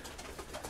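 Young striped pigeons (squabs) in a loft nest coo and murmur softly in short overlapping bursts, close by, with no talking.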